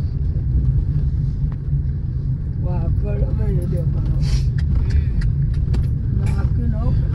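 A car rolls along with a steady low engine and road rumble throughout, close and constant, while a voice talks over it in the middle and toward the end.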